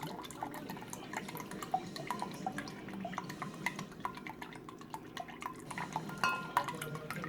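Tamari soy sauce being poured into a pot, a soft, steady liquid trickle with light drips and faint clinks of kitchenware, no talking.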